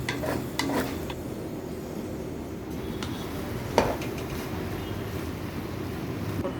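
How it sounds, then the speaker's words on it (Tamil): Egg bhurji is stirred in a frying pan over a medium flame, giving a soft, even sizzle with occasional scraping taps of the spatula, one slightly louder clack partway through. "எல்லாத்தையும் நல்லா இந்த மாதிரி கலந்து விட்டுக்கோங்க"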